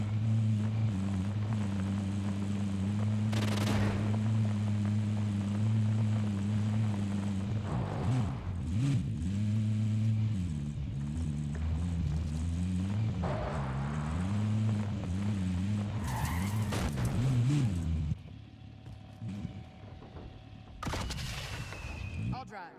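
Vehicle engine droning steadily in the Warzone video game, with a loud continuous low hum that rises and falls as it drives, brief bursts and scrapes mixed in near the end.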